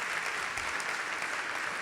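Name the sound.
audience applause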